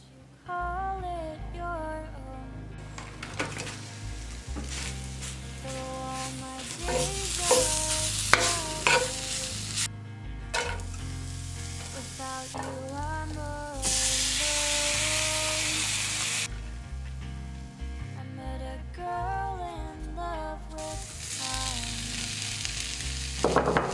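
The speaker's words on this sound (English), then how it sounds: "here I am roasting some harissa spiced chickpeas to just alter my leftover soup" Harissa-spiced chickpeas roast in a pan, hissing and sizzling steadily under a continuous bed of background music, with occasional stirring.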